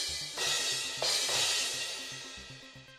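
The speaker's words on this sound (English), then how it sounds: "And these are the crash cymbals." Crash cymbals from a drum kit are struck twice, each hit a bright, loud wash that shimmers and slowly fades. A light bouncy backing tune plays underneath and no voices are heard.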